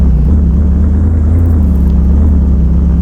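Mercedes Maybach car engine in the Euro Truck Simulator 2 driving game, a steady low idling rumble that holds loud and even throughout, with no talk.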